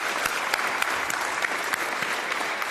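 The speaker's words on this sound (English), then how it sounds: "let's give them a round of applause" An audience at a school committee meeting gives a round of applause, a steady clatter of many hands at moderate level with a few sharper individual claps.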